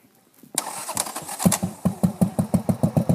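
A motorcycle engine cranks and fires after a brief quiet moment, then settles into a loud, close, lumpy idle with regular pulsing beats that continue to the end.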